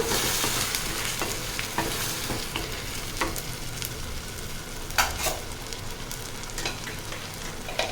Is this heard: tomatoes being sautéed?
yes